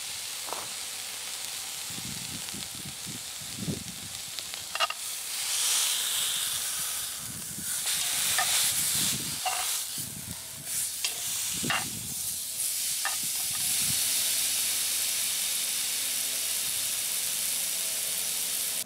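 Beef tenderloin searing in a cast-iron Dutch oven over coals outdoors, a steady broad hiss and sizzle running throughout, with occasional clicks and clanks of utensils or lid nearby.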